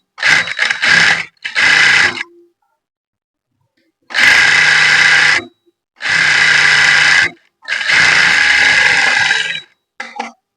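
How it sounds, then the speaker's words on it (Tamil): Electric sewing machine stitching a churidar, loud close whirring runs in short bursts at the start, then three longer steady runs separated by silent pauses, ending with a brief final burst. "இப்போ நான் வந்து இந்த இடத்துல இருந்து இங்கே ஸ்டிச்சிங் பண்ணுறேன்"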